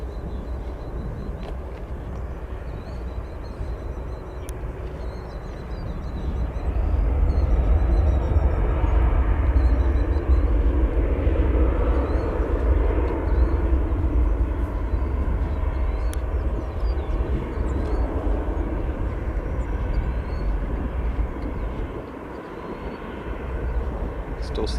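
A jet engine roars steadily and loud at O'Hare Airport, swelling as an airliner passes, then easing toward the end over a constant low rumble.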